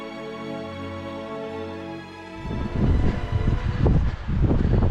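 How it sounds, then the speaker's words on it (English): Gusts of wind buffet the microphone in heavy, rumbling bursts on a mountain trail near Lake Tahoe after a steady engine-like hum, loud and close. "It's windy up here though, which feels great."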